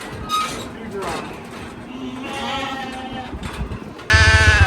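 Wet ewes bleat while being sorted on a farm, several wavering calls close by over a shuffling background of livestock movement, followed by a sudden burst of metallic clinking at the end.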